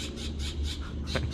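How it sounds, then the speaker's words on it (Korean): Birds outdoors give repeated squealing, squawking calls close by, several rapid bursts over a steady noisy background. "새소리가 엄청"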